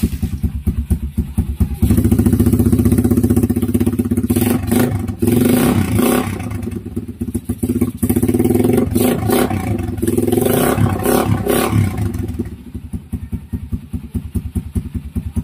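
Motorcycle fitted with a Leo Vince muffler and silencer, replacing the stock exhaust on a Creed GP Warrior, revving repeatedly in loud, close bursts that rise and fall over a steady idle, then settling back to idle at the end.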